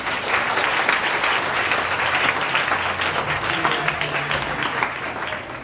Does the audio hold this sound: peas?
no